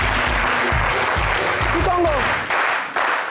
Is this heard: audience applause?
yes